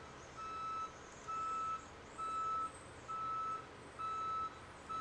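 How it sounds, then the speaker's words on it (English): A truck delivering gravel next door backs up outside, its reversing alarm sounding six steady, evenly spaced beeps, moderately distant and heard indoors through a window. "Can y'all hear the beeps?"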